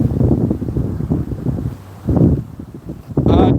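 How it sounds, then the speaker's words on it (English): Outdoor wind buffets the microphone in loud, rumbling low gusts that swell and ease, ending in a sharper blast. "I can feel how windy it is."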